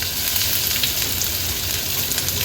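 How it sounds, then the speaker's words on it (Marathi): Finely chopped onion hits hot oil seasoned with bay leaves in a pan, producing a steady, bright crackling sizzle that holds evenly throughout. "आता आपण हा बारीक चिरलेला कांदा ऍड करूया"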